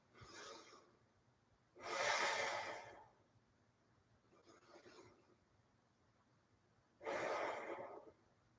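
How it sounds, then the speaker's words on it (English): Slow, deep breaths during a seated chair-yoga exercise, each long exhale or inhale rising as a soft airy rush and fading, spaced several seconds apart with quiet pauses between. "So we'll take 10 breaths in this way"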